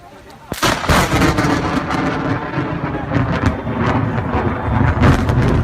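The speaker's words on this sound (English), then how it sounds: "And they also got to experience what snow lightning is like." Thunder from a rare snow-lightning storm in Southern California rumbles and cracks, loud and sustained, with a sharp burst near the start and a continuous roaring wash afterward.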